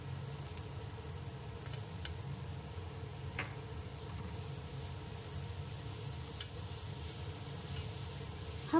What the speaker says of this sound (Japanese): ここにハムを加えて炒めます。